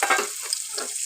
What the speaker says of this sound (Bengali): এবার এই ছোটো ছোটো করে কেটে রাখা আলুগুলো দিয়ে দেবো